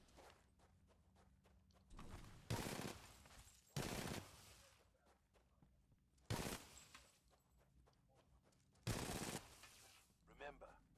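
Pistol shots from Titanfall 2, a normal pistol and an auto pistol, ring out in four loud, separate bursts of rapid shots over quiet game ambience, with faint footsteps between them.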